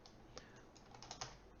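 Keys tapping on a computer keyboard in an irregular, quick run of soft clicks with a few sharper strokes, close and quiet, no talking.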